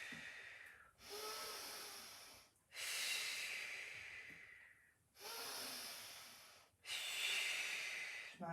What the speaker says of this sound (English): I'm breathing in and I'm breathing out.